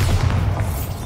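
Bombarda spell detonating in Hogwarts Legacy gameplay, a loud, dense booming blast with rolling low rumble that fills the whole moment.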